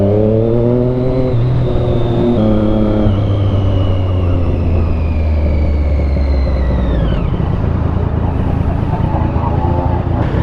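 A racing motorcycle at Creg Ny Baa during the Isle of Man TT roars past loud and close, its engine whine rising then sweeping down in pitch as it passes, leaving a rumbling wash of noise.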